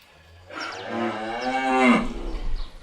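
A single cow on a beef cattle farm gives one loud, drawn-out moo lasting about a second and a half, close by, with no other sounds.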